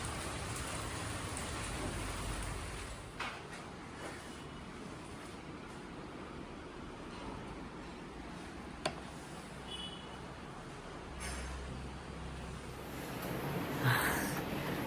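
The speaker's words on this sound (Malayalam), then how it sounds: "പക്ഷേ വളരെ ഗ്ലൂമി ഡേ ആണ്. ഭയങ്കര മഴയുണ്ട്." Heavy rain pours down on a gloomy day around a home and garden, a steady, dense hiss that fills the whole stretch, with a few faint knocks and no voices.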